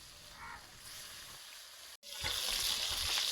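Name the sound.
fish frying in oil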